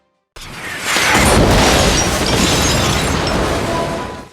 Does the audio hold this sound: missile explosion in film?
yes